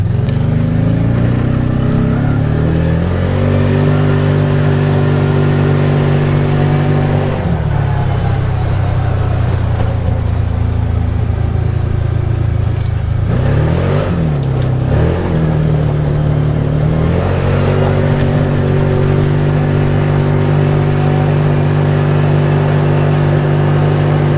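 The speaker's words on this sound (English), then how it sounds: "so in high gear, let's see what top speed we can get to." A Massimo MSU 850 side-by-side accelerating toward top speed in high gear, its engine droning loud and close with rising and falling pitch, a brief dip in revs midway before it climbs again.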